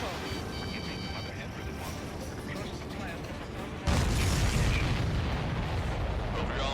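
Dense rumbling bursts and booms from aerial combat in Ace Combat 7: Skies Unknown, with a sudden louder blast partway through that keeps roaring afterward.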